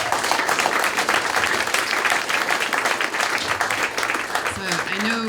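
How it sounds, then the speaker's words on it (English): Sustained audience applause fills a tech and society summit hall in Silicon Valley, dense steady clapping at close range with a few voices breaking through near the end. "Let's give her a round of applause."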